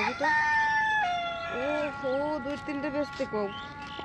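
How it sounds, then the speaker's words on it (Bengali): Chickens and a rooster at a rural homestead, heard fairly close: drawn-out crowing calls and short clucks, with people talking alongside them. "এই যে মুরগি"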